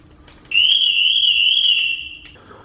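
A BMW E70 alarm siren sounds loudly and close, a steady high warbling tone holding for about two seconds before cutting off, alone in a parking lot with no talk.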